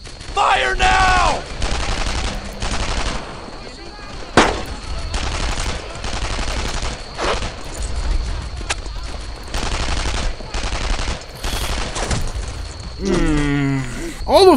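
Sustained automatic and rifle gunfire rattles through a Brothers In Arms: Earned in Blood WWII battle, bursts repeating in dense volleys with scattered single shots, while soldiers shout over the shooting.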